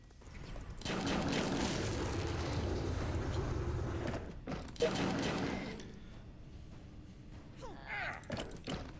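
Gunfire in the Fallout Shelter video game, heard as loud, dense bursts of rapid shots that fade and return, with a player's voice faintly mixed in.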